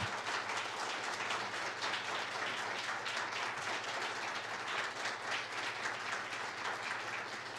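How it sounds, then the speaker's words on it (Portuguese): Sustained applause from an online or seminar audience during a physiotherapy lecture on ALS, a dense steady wash of many hands clapping continuously throughout with no speech over it. "Se quiserem aplaudi-la, pode ser que ela está ouvindo agora."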